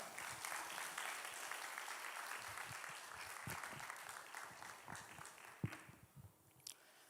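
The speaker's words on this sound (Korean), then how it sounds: "송주영 목사님 나오실 때 우리 박수로 환영하고 축복합니다" A Korean church congregation claps to welcome the pastor to the pulpit for the sermon at a Sunday service, a steady soft wash of applause that thins toward the end, leaving a few scattered claps and knocks.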